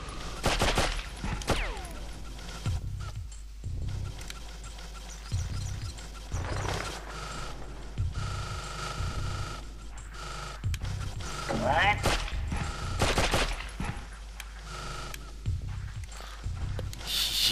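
Gunfire from the video game Abe's Oddysee, sharp repeated shots and bursts scattered through the stretch amid game noises, with a voice talking at times.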